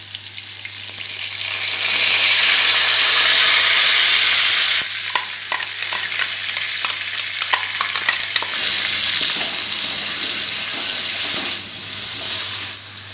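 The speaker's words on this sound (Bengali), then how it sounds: "এবার আমি এর মধ্যে দিয়ে দেব এই মশলাটা।" Spice paste sizzling and frying in hot oil in a wok for a Shankar fish curry, a steady loud hiss that fades briefly mid-way with scattered stirring clatters before the sizzle surges again.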